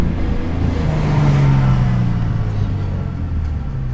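A BMW E46 M3 with an SMG gearbox pulling in fourth gear, its engine droning low and steady with a rising note, loud and close, echoing off town walls, with no voices.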